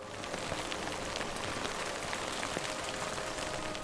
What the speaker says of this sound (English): the specific audio of rain hitting a waterproof jacket